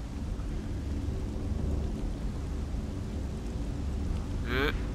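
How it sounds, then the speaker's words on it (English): Steady rain hisses across the scene in the video game Flower, with a low rumble of thunder rolling beneath it and a brief brighter chime near the end. "the theme is rain this time by the looks of it"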